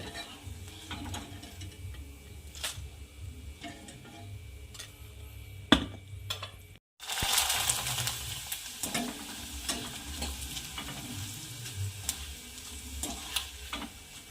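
Fried sabudana chivda for a fasting snack is mixed in a pan, a continuous rough scraping and rattling stir close by, with a brief pause midway before the busier churning resumes.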